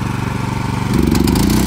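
A power tiller engine running during a live field demonstration, a steady low throbbing idle that rises to a louder, rougher chugging partway through as the gear engages.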